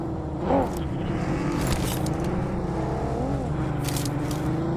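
A white vehicle drives in a multiplayer battle-royale video game, a steady engine drone with scraping and rattling tones throughout, close and fairly loud.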